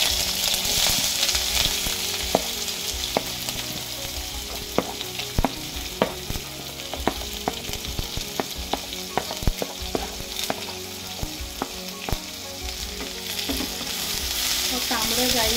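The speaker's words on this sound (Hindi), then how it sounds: "तांबडो जायसर तळसून घेया।" Chopped onion frying in a spoonful of oil in a pan for a Goan chicken chilly, a constant crackling sizzle with frequent sharp spatula scrapes and taps, close and steady, without speech.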